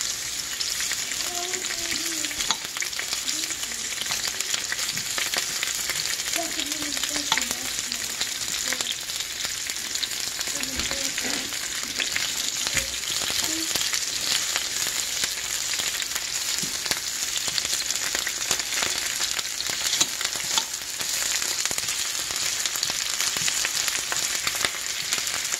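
Onions frying in a pan ahead of searing a pork steak, a steady hissing sizzle that holds for the whole stretch, with a voice heard faintly a few times early on.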